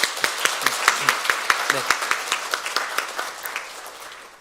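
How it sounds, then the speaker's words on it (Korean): Church congregation applauding during a Sunday morning service, a lively burst of many hands clapping in quick, roughly rhythmic beats that gradually fade out, with a brief spoken word at the start. "박수 한번 하겠습니다."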